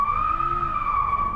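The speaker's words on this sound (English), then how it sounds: "I'm going to show you guys what I mean about the traction control and roasting the front tires" A 2022 Hyundai Kona Electric roasting its front tires on the road, a sustained high squeal of spinning rubber that wavers slightly in pitch, steady and fairly close throughout.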